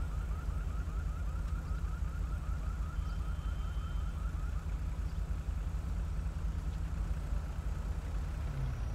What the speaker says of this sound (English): Thought I heard an alarm going off there for a second.